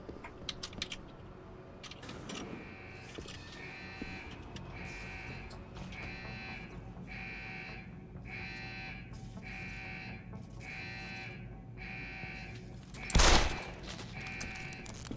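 An alarm in a video game rings in a steady series of regular electronic beeps, repeated about ten times over mixed game noise, with a sharp loud burst near the end.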